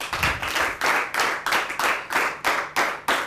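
An audience at a school debate gives steady rhythmic clapping for the runner-up team, with about a dozen even, fairly close claps and no talking.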